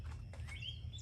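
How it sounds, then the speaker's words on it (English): Birds chirp outdoors in Florida in April, a few faint, quick tweets over a low steady background hum. "Sorry for the birds, it's April in Florida, that's what happens."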